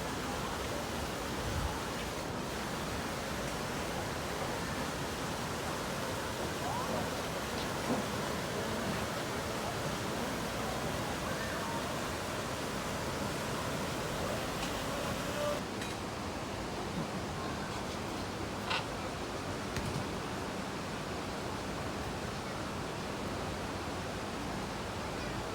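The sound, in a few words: Düden Waterfalls in Antalya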